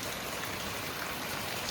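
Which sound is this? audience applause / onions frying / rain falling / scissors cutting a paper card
rain falling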